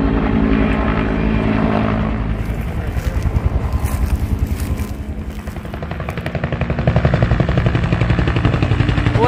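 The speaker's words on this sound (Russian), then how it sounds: "вертолет вот с таким шлангом набирает воду в American River и тушит" A firefighting helicopter carrying a water hose, drawing water from the American River to fight a California park fire, passes close overhead with a loud rhythmic rotor chop that swells, eases and builds again.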